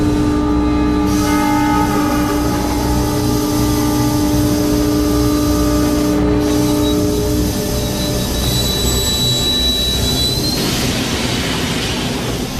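A Paris train rumbles steadily with sustained tonal whining and a high squeal near the end as an automatic control device brakes it to a stop, loud and close throughout.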